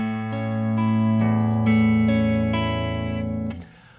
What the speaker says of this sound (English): Instead of playing the same thumb note on the 5th string every time, we'll alternate with the 6th string.